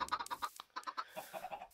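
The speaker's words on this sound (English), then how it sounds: "Half of those eggs turned into chickens." Chickens in a video game, hatched from thrown eggs, cluck in a quick series of short, close clucks.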